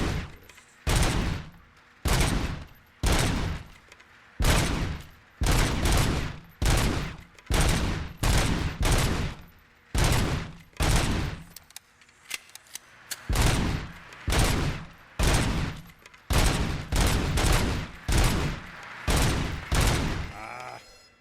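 Service weapon fired at a shooting range in the RoboCop: Rogue City video game: loud, close bursts of rapid automatic fire in about seventeen evenly spaced volleys, each cut off by a short pause, with no talking over them.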